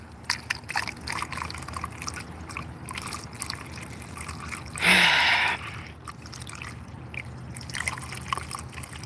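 Water poured into an empty car radiator after the engine overheated, heard as faint trickling and dripping followed by a brief louder gush of pouring liquid near the middle, then quieter drips.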